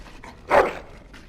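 A dog in Dragon Age: Origins gives a single short bark-like yelp with a brief whimpering edge, fairly close and moderately loud over quiet game ambience.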